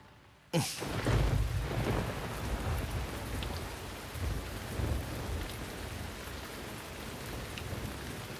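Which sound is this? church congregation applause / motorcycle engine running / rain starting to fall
rain starting to fall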